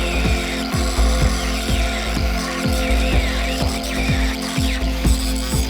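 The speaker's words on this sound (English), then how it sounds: "So I'm going to cut my rebar to size." A power tool cuts steel rebar to size for a wood garden retaining wall, a loud continuous motor whine with a regular rhythmic thumping pulse throughout, close up.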